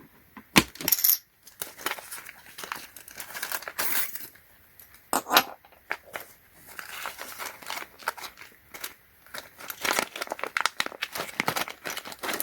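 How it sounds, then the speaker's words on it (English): Small Phillips screws clink and rattle as they are handled during disassembly of a device with lithium-ion polymer batteries, producing busy metallic taps and scrapes close up, with no voices. "And those are the Phillips screws."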